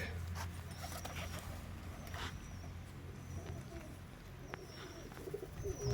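Soft pigeon cooing repeats close by during pigeon vaccination, mixed with faint rustling and handling noises as a bird is held; no clear speech.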